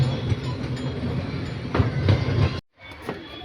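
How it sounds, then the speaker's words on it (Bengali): A toy train in Cubbon Park rumbles along with a steady rolling clatter and a few sharp clicks, close and moderately loud, cutting out briefly near the end before resuming. "ট্রেন ছেড়ে দিয়েছে"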